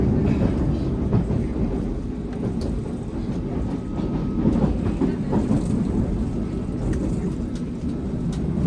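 A London Underground Tube train runs between London Bridge and Paddington, with a loud continuous rumble, rattling, and occasional clicks and squeals heard from inside the carriage throughout.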